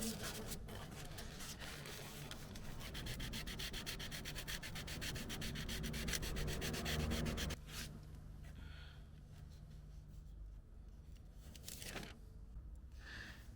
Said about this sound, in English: start sanding down this area here with the 1000 grit